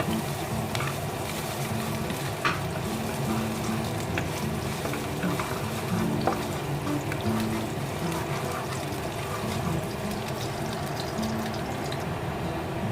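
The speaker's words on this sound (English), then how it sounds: "Now we add 4 garlic. Lovely. We stir." Minced garlic frying in two tablespoons of olive oil while being stirred in a pan for spicy garlic shrimp, a steady continuous sizzle with faint clicks of a utensil throughout.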